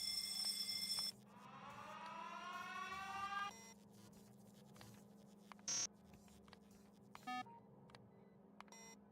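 A Factorio Space Exploration game alarm plays a rising electronic tone sweep over a steady low hum, followed by a few short, sharp beeps scattered through otherwise quiet playback.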